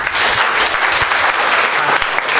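Applause from an audience at a live Hindi-language lesson or demonstration, dense and steady clapping filling the whole moment at a loud, close level with no voices over it.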